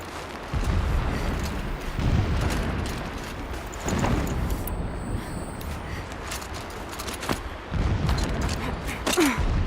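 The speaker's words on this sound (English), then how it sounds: "Explosions in the distance." A continuous rumbling barrage of booms and blasts in the video game Horizon Zero Dawn on PS5, distant and dense, rolling on without pause through the whole stretch.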